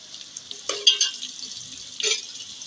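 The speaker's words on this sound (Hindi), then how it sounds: "ये फ्राई हो जाती है ना। हाँ, तेल में इसलिए प्याज के साथ डालती हूँ।" Onions fry in oil in a pan at home, giving two short bursts of sizzling and stirring over a quiet background.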